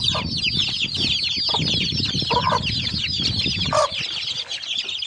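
Desi Aseel chickens cluck and squawk together inside a pen, a dense, close chorus of overlapping calls and occasional louder cackles with no pause and no talking.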